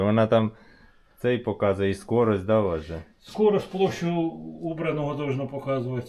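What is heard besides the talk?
No everyday noises stand out.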